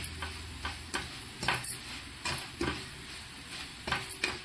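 Spices, chilli powder and turmeric frying in a pan for chole curry, with a soft continuous sizzle broken by repeated spoon scrapes and taps against the pan, close and without talk.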